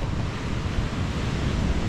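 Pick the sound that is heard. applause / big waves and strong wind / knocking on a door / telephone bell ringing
big waves and strong wind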